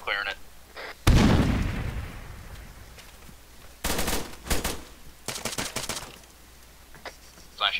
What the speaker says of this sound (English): Grenade going out in mid. Grenade's out.